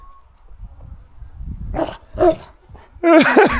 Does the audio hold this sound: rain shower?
no